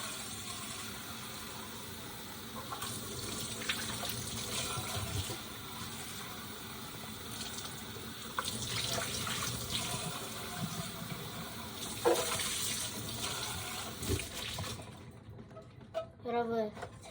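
Tap water runs steadily while a snail's shell house is washed clean, a continuous splashing gush with occasional clinks, ending in quieter drips near the close; someone talks faintly underneath.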